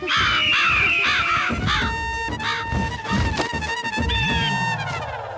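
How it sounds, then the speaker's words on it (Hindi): Several crows caw in a loud, busy chorus of overlapping calls, with repeated harsh rising-and-falling caws filling the scene at close range throughout. "आप लोग आंखें खोलिए, कौवे आ रहे हैं।"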